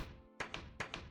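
A door placed in a video game lands with two quick paired knocks, a wooden tap-thunk pattern repeated twice, close and fairly quiet with no talk.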